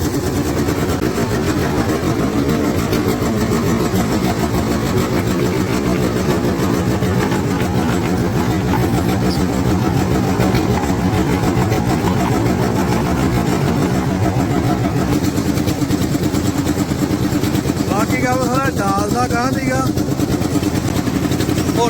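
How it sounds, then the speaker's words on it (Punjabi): A steady mid-pitched engine drones continuously, running a potato grader on a farm, with people talking over the mechanical hum throughout. "ਇੰਜਣ ਦੇ ਨਾਲ ਚੱਲਦਾ ਕੰਮ ਸਾਰਾ ਸਿਸਟਮ"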